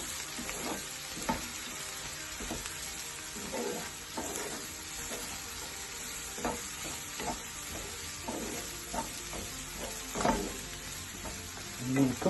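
Chopped spring onions sizzle and fry in a pan for an aloe vera omelette. Spatula scrapes and stirring knocks come at irregular intervals over a constant quiet crackle.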